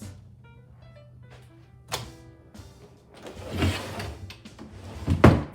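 A pocket door in a 1969 ranch house slides along its track with a soft rolling rumble, bracketed by a couple of dull wooden thunks, heard up close in a quiet room.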